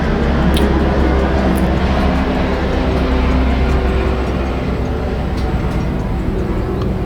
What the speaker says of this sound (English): Why is a plane landing on me?